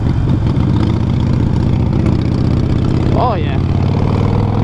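A Harley-Davidson Sportster Roadster motorcycle idles close by with a steady, loud, lumpy low rumble, and someone briefly speaks over it near the end.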